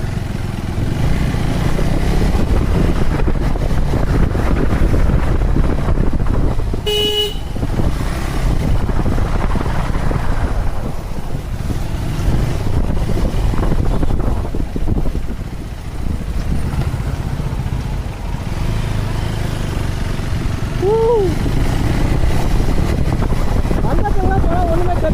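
A 2025 KTM Adventure 390 S motorcycle rides along a road, its engine drone and wind rush steady and close throughout, with someone talking over it.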